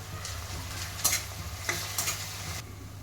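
Garlic paste fries in a pan with browned onions, giving a steady close sizzle broken by a few sharp scraping stirs of a spoon against the pan.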